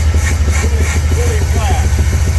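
A 1969 Chevrolet Chevelle SS V8 idles loud and close on old bad gas with a flat carburetor, a steady low rumble with faint talk over it.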